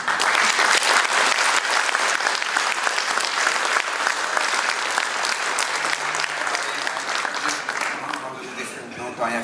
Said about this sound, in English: Norwegian audiences very seldomly give applause in the middle of a speech